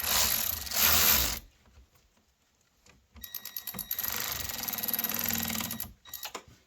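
Ratchet tightening a car battery terminal on a Subaru, in loud, close bursts of rapid clicking with a quiet pause between them.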